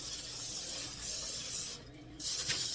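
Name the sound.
cooking oil spray onto parchment paper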